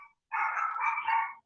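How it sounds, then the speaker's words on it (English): A pet dog barks in one sustained, loud burst of rapid yelps at close range inside a home, lasting about a second, with no talk over it. "My dog's about to scream because my oldest is coming in the back door."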